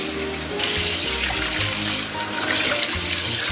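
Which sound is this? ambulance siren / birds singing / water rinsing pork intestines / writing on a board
water rinsing pork intestines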